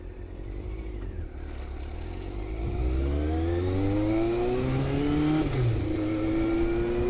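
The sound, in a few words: 1988 Yamaha FZR400 EXUP motorcycle engine running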